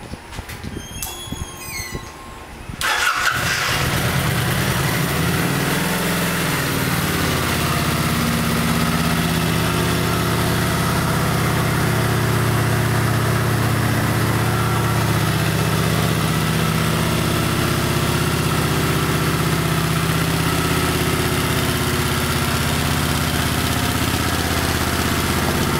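After a few quiet seconds a Kawasaki Vulcan VN900 motorcycle engine fires up and settles into a loud, steady idle with a constant low rumble.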